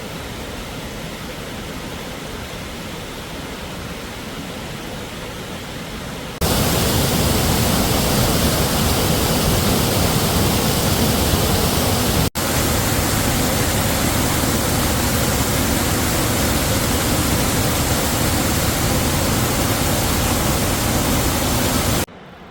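Shoal Creek Falls in Missouri roars as a dense, steady wash of falling water, quieter at first and then suddenly much louder and closer, continuing unbroken until it stops.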